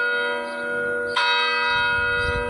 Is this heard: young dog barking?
no